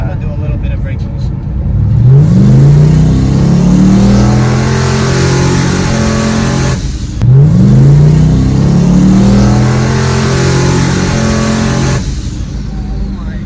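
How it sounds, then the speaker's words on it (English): An LS-swapped 2003 Nissan 350Z with a big turbo, rated around 1100 horsepower, revs hard while held on the brakes to build boost, with two long rising engine pulls separated by a brief drop, loud and close from inside the cabin. "I'm gonna do a little bit of brake boost."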